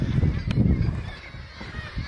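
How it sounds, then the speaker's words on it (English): Many seabirds call from a crowded bird house in Pyramiden, Svalbard, a dense, honking chorus at moderate distance, continuous and fairly loud. "This bird house, it's insane. There are so many birds."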